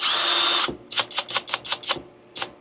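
A Milwaukee power tool set to level 3 starts with a loud, steady whirring burst, then breaks into about eight short, sharp, evenly spaced pulses close by, with no talking.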